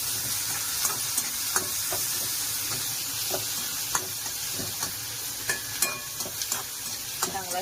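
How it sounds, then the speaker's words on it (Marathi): Tomatoes frying in a pan for upma, with a steady close sizzle and repeated scrapes and clicks of stirring throughout, no voices. "आता आपण टोमॅटो टाकून घेऊया. टोमॅटो पण मस्त शिजवून घ्यायचा."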